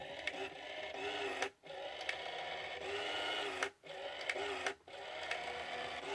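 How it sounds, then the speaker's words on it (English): An NEC PC-8300 portable computer's thermal printer prints onto thermal paper with no ribbon, a steady close-up mechanical buzz in repeated runs broken by two or three brief pauses, with no voices. "Now it's printing. This is thermal paper, so there is no ribbon"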